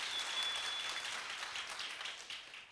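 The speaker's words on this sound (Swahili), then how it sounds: "Makofi tena kwa Shofco" An audience applauds at a SHOFCO SACCO annual general meeting, a dense sustained clapping from many people that tapers slightly at the end.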